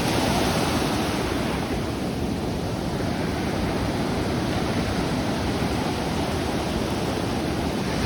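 Ocean waves roll and wash in a fishing video game, a continuous hissing surf rush at steady loudness with no distinct breaks and no talking.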